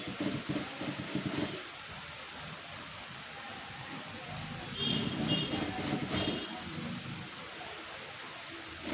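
A sewing machine stitching a blouse runs in two short bursts of fast, even whirring and rattling, separated by a quieter pause.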